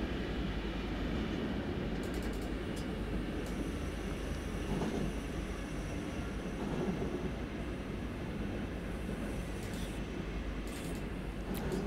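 A regional express train in Train Sim World 4 braking on approach to Essen Hauptbahnhof, a steady rumbling rail roar with faint squeaks and clicks, no talking.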